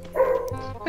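A dog in the video game Free Fire gives a single short bark, heard fairly close and alone in a brief moment.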